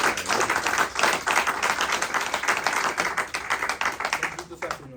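A church congregation breaks into sustained applause, a dense close clapping that carries on steadily before fading out near the end.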